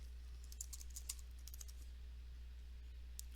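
Someone types a password on a computer keyboard, a quick run of faint, light key clicks in irregular bursts over a steady low hum.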